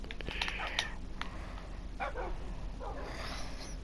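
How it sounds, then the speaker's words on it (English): Dogs bark and yip in the Minecraft video game, a few sharp barks in a quick cluster followed by fainter yelps and whimpers over a low background hum. "These dogs are so stupid."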